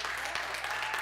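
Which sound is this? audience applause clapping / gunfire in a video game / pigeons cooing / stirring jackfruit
audience applause clapping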